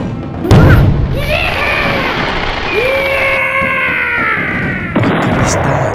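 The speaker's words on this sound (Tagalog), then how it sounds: "Ingay ng mga paputok na nagsasalimbayan sa papawirin." Festival fireworks booming and crackling in the sky over a town fiesta, with a loud burst near the start and another later, whistling streaks rising between the blasts.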